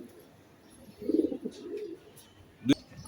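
Budapest pigeons give soft, low coos in short bursts close by, with faint background noise between calls.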